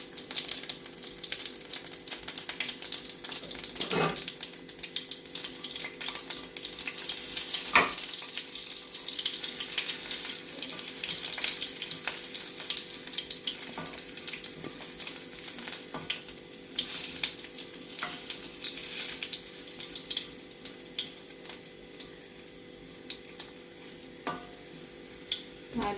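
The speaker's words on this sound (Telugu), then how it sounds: "తాలింపు బాగా వేగిందండి." Crushed garlic, dried red chillies and fenugreek seeds frying in hot oil as a tempering, a continuous crackling sizzle with intermittent stirring clinks throughout, nearby and without talk.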